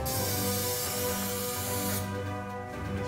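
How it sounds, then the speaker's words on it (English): PB Blaster penetrating oil sprays from an aerosol can up into the pumping unit of an old gas pump, a loud, close, continuous hiss lasting about two seconds before cutting off to quieter background noise. "I spray it up into the pumping unit"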